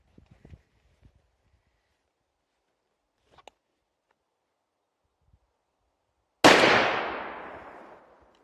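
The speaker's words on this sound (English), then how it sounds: "So now I'm going to try some more shots out of it." Rifle shot from the left barrel of a Baikal 45-70 double rifle fired outdoors, one loud blast with a long decaying echo that comes after several seconds of quiet scattered handling noises and a few soft voices.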